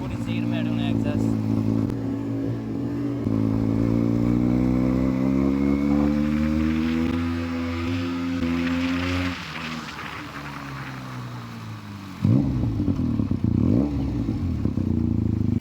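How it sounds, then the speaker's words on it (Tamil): Benelli 300cc motorcycle exhaust revving under throttle, a loud close engine note climbing and falling in pitch, with talk over much of it and a sharper burst of revs near the end. "ஸ்வீட்டாக இருக்குது பார்த்தீங்களா எக்ஸாஸ்ட் நோட்டு. த்ராட்டல் பண்ணுறப்பவே பயங்கரமாக இருக்குது."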